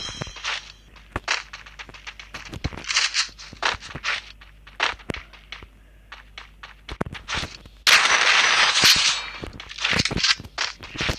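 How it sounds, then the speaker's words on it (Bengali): Free Fire video game gunfire and footsteps: rapid sharp shots and quick steps in irregular bursts, with a louder, denser stretch of firing near the end. "তাকে কিন্তু আমি হেডশট একটা মেরে দিচ্ছি গাইস"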